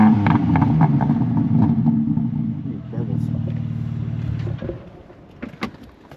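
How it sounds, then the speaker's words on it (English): A BMW M3 engine revs in M2 mode, a loud throaty rise that holds for several seconds, then drops off and settles into quieter clicks and low rumble. "Here's a rev in M2 mode"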